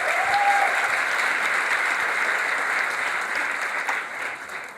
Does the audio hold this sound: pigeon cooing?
no